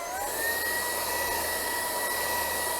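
High-pitched whine of a BVILY cordless vacuum cleaner running in turbo mode, a constant airy roar with a faint rising tone at the start, heard close and without talk.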